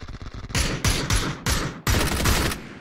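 Bursts of automatic gunfire in the battle royale video game PUBG, several loud rapid volleys separated by short pauses, close and dominating, with no talking.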